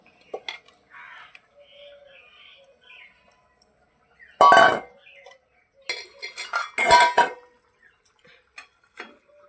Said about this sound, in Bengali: গরম মশলা দিয়ে দেবো। ভেজে রাখা সবজিগুলো খিচুড়ির মধ্যে দিয়ে দেবো।